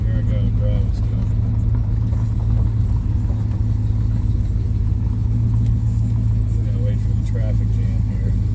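A 1968 Chevrolet Impala on the road, its engine giving a steady low rumble with road noise throughout while someone talks over it.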